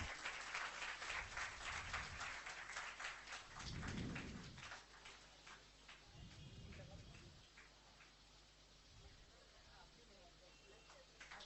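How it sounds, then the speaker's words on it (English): Audience applause at a medical lecture on the care of child abuse victims: sustained clapping from a hall crowd fills the whole stretch, steady and fairly loud, with a few low thumps and murmurs mixed in. "A huge round of applause."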